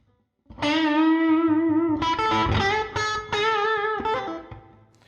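Distorted electric guitar through an FM3 preset playing sustained blues notes and chords with a recording-studio room reverb tail, up close and loud, no talking.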